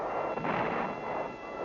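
A deep boom rolls out from field artillery fire in the Vietnam War, a single heavy, rumbling blast that fades slowly, heard on an old, muffled recording.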